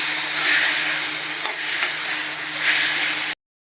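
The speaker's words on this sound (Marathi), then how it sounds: "आता टोमॅटो व्यवस्थित परतून घेऊया टोमॅटोचा कलर बदलेपर्यंत आपल्याला टोमॅटो फ्राय करून घ्यायचे" Tomatoes fry in a pan of oil for tomato chutney, giving a steady, close sizzle broken by soft scraping strokes of stirring, which runs unbroken with no voices and then stops abruptly.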